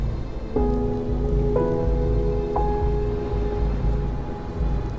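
Heavy monsoon rain pours steadily during the Mumbai flood, a dense, continuous roar of rain on surfaces with a few brief tonal sounds rising over it.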